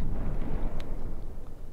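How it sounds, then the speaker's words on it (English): Naval mines detonating in the game From the Depths give a deep, rumbling boom that rolls on with low churning noise, near and heavy, with no talk. "they'll fall over and then maybe they'll detonate"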